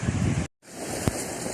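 Sea waves wash in at a seaside shore with a steady, broad rushing roar and wind buffeting the microphone, briefly cut to silence before the surf noise resumes.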